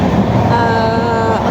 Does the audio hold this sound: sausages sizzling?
no